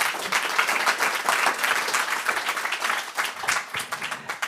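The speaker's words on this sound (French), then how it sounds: "sous vos applaudissements nourris" Audience applause welcoming a guest, journalist Caroline Tourbe of Le Point, onto a stage for a talk on dark matter; dense, sustained clapping from a full crowd, loud and steady throughout the few seconds with no speech over it.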